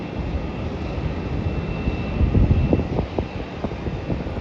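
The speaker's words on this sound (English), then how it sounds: "it's an Airbus A350" An Airbus A350 jet airliner at Melbourne airport gives off a steady, fairly distant engine roar with low rumbling surges, with no voices present.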